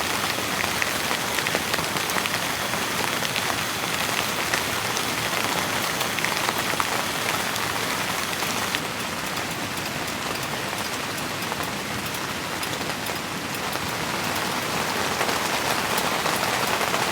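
Heavy rain drums steadily on a hot tent at a camping spot, a dense, close hiss of countless drops hitting the fabric that holds constant for the whole stretch with no voices.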